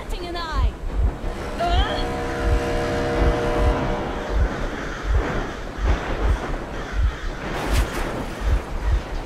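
A vehicle engine runs loudly and continuously in Metro Exodus, a rough rumbling drone with a rhythmic low thump, while a voice speaks over the opening seconds.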